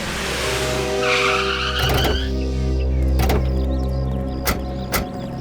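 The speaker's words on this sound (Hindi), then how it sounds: "बस सर गाड़ी रोक दीजिए यहीं पे।" A car braking to a stop, tires skidding with a drawn-out squeal under a steady engine hum, followed by a few sharp thumps near the end.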